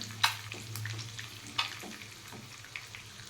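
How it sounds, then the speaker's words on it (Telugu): Pieces of boiled egg frying in oil in a pan for an egg curry, giving a faint steady sizzle with a couple of sharp spatters as pieces land or are turned, quiet and close. "ఈ గుడ్డు ముక్కలన్నీ ఇట్లా వేసుకోవాలండి ఆయిల్లో ఫ్రై చేసుకోవాలి"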